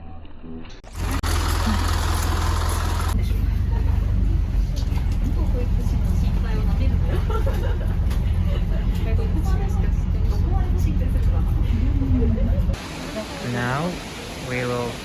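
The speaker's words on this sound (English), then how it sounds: "now we will go to Inkakuji via bus" Ride aboard a city bus in Kyoto, with a steady low engine rumble and road noise running throughout, a brief quieter stretch at the start and a change near the end, while people chatter in the background.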